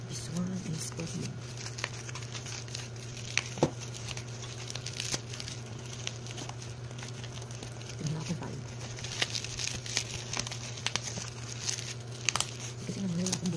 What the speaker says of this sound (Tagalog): Nagbukas na ng parcel pero wala akong naman talang gunting.